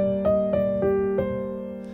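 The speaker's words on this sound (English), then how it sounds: "I'm calling it the sacred timeline theme" A short, wistful orchestral phrase of the Sacred Timeline theme from the Loki episode 1 score: a held low drone under four soft, evenly spaced melodic notes that fade out gently.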